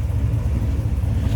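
A 1961 Chevrolet Impala convertible's 348 Tri-Power V8 idles with a low, steady, even rumble for a short moment, close and fairly loud with no voices.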